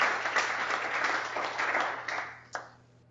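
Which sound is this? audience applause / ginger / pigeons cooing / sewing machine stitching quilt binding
audience applause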